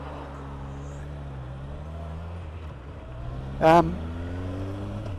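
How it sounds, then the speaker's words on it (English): Cars drive by on a road, their engines a steady low drone throughout, with a brief sharp higher sound near the end. A voice speaks briefly over the traffic. "lot of cars coming."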